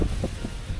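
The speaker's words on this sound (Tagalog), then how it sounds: "Lakas ng hangin." Strong typhoon wind buffets the microphone in a low, steady roar with uneven gusts, loud and close, with no voices.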